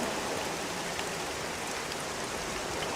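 Steady rain falls during a siege battle in The Cursed Crusade, a constant dense hiss of drops on the ground, even and unbroken throughout.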